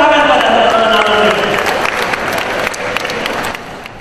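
Loud applause from a Christmas gathering crowd for alumni, steady clapping that begins over a blend of voices and music, then thins slightly toward the end.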